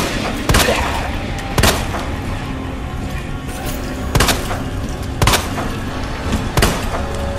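Sharp gunshots crack out at irregular intervals in the video game Resident Evil 2, about six loud reports over a steady background rumble, with no speech.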